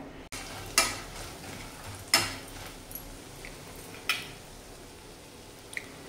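Makhana (fox nuts) roasting in oil in a pan, a quiet low sizzle broken by a few distinct scraping knocks of a spoon spaced a second or two apart, close and faint.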